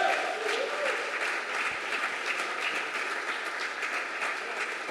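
A church congregation at a conference applauds in a dense, sustained roar of clapping from a large crowd, with faint voices mixed into the even wall of sound.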